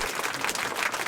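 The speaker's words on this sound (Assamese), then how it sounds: "সকলোৱে এবাৰ হাত চাপৰি মাৰি দিয়া।" Applause in an Assamese cartoon: a dense, even patter of clapping hands from a group, steady and continuous throughout without a clear start or finish.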